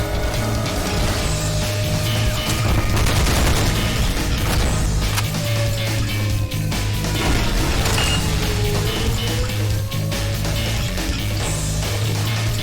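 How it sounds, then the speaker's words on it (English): Mortar fire in the Black Mesa video game, dense booming blasts and crashing impacts rolling through a loud, continuous battle din with mechanical clatter over the whole stretch. "Oh, they're shooting mortars at me."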